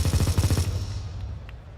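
Automatic rifle fire in Counter-Strike during a pro grand final, a fast burst of about a dozen loud shots fired through a wall, then a ringing tail fading out.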